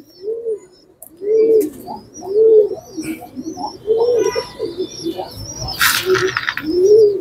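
Sick pigeons cooing in repeated low, rounded bursts, close by, with a few faint chirps and a brief rustling flutter partway through.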